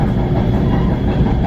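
A commuter rail train riding toward Port Jervis, a steady loud rumble of wheels and car noise continuing throughout without a break, heard from inside.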